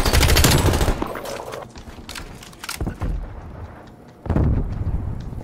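Gunfire in a shooter video game: loud automatic bursts crackle across the first second, return briefly near the three-second mark, then resume as a sustained volley to the end, with no talking.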